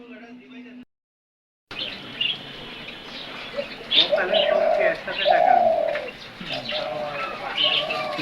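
Doves coo in a rooftop garden, a series of soft, low, rounded calls close by, with other birds chirping around them after a brief silent gap.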